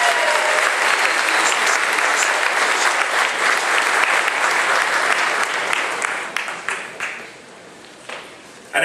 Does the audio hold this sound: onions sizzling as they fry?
no